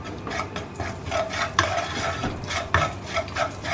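A spoon stirring egg curry masala in a pan, with repeated scraping and clattering strokes in an uneven rhythm over a soft sizzle, close and clear, no voices.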